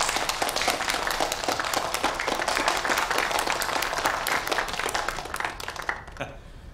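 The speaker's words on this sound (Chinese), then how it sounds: "让我们用最热烈的掌声欢迎他" A crowd gives warm applause to welcome a newly appointed police chief, with loud, dense clapping throughout that thins and breaks off near the end.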